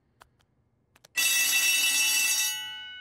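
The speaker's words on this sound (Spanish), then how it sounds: "¿Quieren oír qué tan fuerte suena la alarma?" A school fire alarm in a cartoon starts abruptly after a few faint clicks and rings loud and harsh for over a second, then stops and leaves a tonal ringing tail fading away, with no speech.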